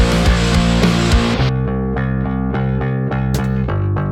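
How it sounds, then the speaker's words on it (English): Clean, undistorted bass guitar tone played in a mix, first over a full dense backing and then more exposed with plucked notes, loud and steady throughout. "we are going to take a perfectly good bass tone that sounds like this"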